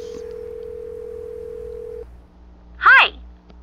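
A phone in a Nancy Drew video game gives a steady, level dial tone for about two seconds, followed by a brief rising voice-like chirp.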